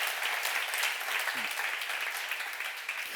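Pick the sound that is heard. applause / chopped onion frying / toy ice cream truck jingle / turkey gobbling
applause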